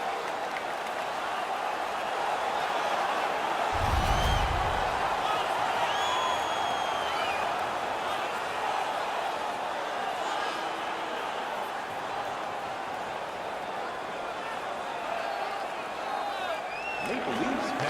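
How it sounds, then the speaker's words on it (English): An arena crowd in the NHL 19 hockey video game roars after a fight, a steady loud wash of cheering and noise under a commentator's voice, with a brief low thump partway through. "The crowd is ecstatic."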